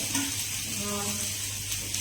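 Fenugreek paste fries in a pan with a quiet, steady sizzle and faint stirring scrapes that continue without pause, and no voices are heard.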